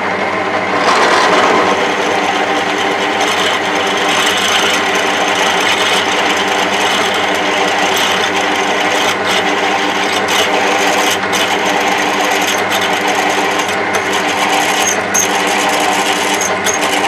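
A drill bores an 8.5 mm hole through metal for a Land Rover flag pole bracket, a steady, close whirring and grinding drone that runs without pause and without voices.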